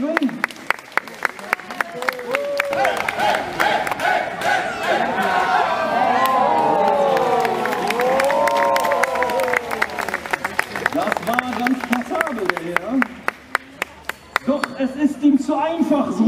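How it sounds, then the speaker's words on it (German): A crowd at a medieval market joust in Gelsenkirchen-Horst cheers and claps, with a burst of cheering and shouting over continuous applause that thins toward the end while voices chatter around. "Ihr dürft ruhig einen kleinen Jubel dafür geben"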